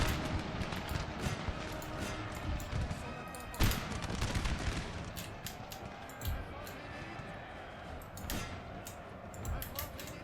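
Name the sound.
musket gunfire in the video game Napoleon: Total War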